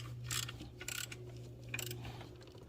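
A torque wrench tightening a bolt on a Chevy Cruze 1.4L engine, a few short ratcheting clicks in quick bursts, close by over a low steady hum.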